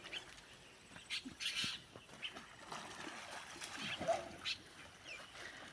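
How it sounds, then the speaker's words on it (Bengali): Boys swimming in open water, with intermittent splashes and light trickling spread through the clip, fairly faint and distant, with a dog and birds faintly heard in the background. "এই যে ছেলেরা সাঁতার কাটতেছে।"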